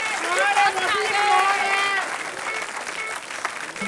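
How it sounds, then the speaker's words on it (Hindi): An audience at a stage poetry contest applauds a contestant being welcomed, a loud dense round of clapping with tonal voices or music running over it, easing slightly toward the end. "जोरदार तालियों के साथ उन्हें दावत दीजिए।"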